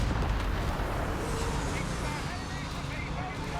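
Nebelwerfer rocket artillery barrage in Company of Heroes 3, a dense continuous rumble of launches and blasts filling the whole stretch at steady loudness, with battle noise layered throughout.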